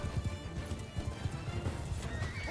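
Galloping horse hooves clip-clop in a steady busy rhythm with occasional whinnies in a Mount & Blade II: Bannerlord battle, with Khuzait horse archers and infantry on a hillside; the hoofbeats are fairly loud and continuous.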